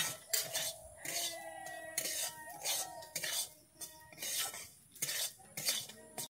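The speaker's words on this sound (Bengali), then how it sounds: "আমি নুন দিয়ে আবারও সুজিটাকে ভালো করে ভেজে নেব।" Semolina with salt being roasted in a karahi, a metal spoon scraping and clinking against the pan in repeated stirring strokes, close and moderately loud, with a brief cough in between.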